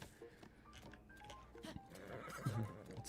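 A horse in Breath of the Wild whinnies over gusty wind, with faint hoof clip-clop and low game ambience; the neigh stays moderately quiet in the mix.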